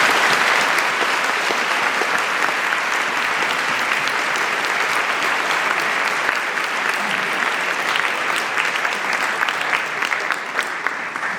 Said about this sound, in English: let's just give Sami a really nice round of applause